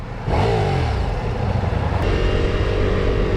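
A Ducati Diavel V4 motorcycle engine revs up close and loud, its pitch climbing sharply then settling into a steady, throaty drone.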